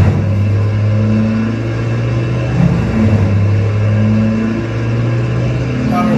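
A tree chipper grinds up large branches into mulch during outdoor tree work, a loud, steady engine drone with low, rising and falling strain as wood feeds through. Faint voices are heard at times.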